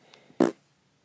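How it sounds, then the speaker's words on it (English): A single short, low fart, close and fairly loud, alone in near silence. "Farts."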